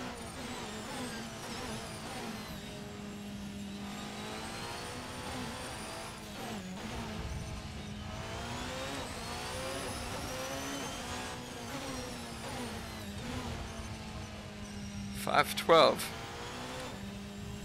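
The RSS Protech P91 Hybrid Evo, a Porsche 919 Evo race car in Assetto Corsa, screams along the Nordschleife DRS zone in a steady high engine whine with a few gear shifts and a brief tire squeal near the end, while someone talks.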